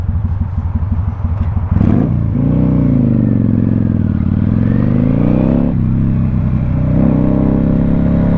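Kawasaki Vulcan cruiser motorcycle engine revving up loudly and close, rising through a long throttle pull, dipping, then climbing again with a steady rumbling idle underneath.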